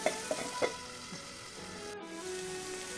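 Ivy gourd frying in a covered pan, an even sizzle with a few soft clinks and scrapes at the start, close and steady, with no voices.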